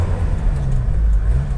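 A Chevrolet Chevette's engine holds a steady, loud low rumble with slight rises in revs, running close by without pause and with no voices over it.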